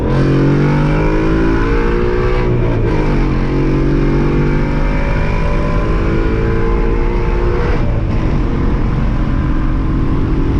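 A car engine revs hard while downshifting with traction control off, a loud, sustained close-up roar with rising and falling pitch sweeps as gears change, filling the whole stretch without talk.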